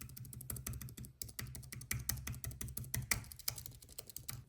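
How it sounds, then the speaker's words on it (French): Rapid, crisp keystrokes on an Apple Magic Keyboard with Touch ID and numeric keypad, tapping in a steady flurry close up with no voices. "Et regardez juste comment le bruit est satisfaisant."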